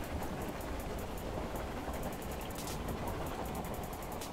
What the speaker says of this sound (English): you notice the quietly soothing streaks of rain that dance upon the windows